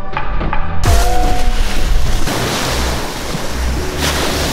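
Surf rolls in at a city beach, a loud close wash of breaking waves mixed with heavy wind buffeting the microphone, swelling and easing over a few seconds.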